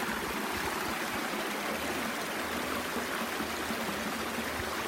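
Cascades of the waterfall on the Mackenzie-King falls trail give off a steady, even rushing of water, moderately loud and unbroken, with no voices.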